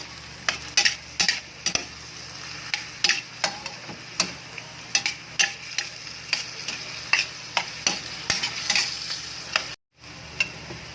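Chicken liver afritada with vegetables being stirred in a frying pan, a steady sizzle under regular close spatula scrapes and taps in a quick, even rhythm, with one brief dropout near the end.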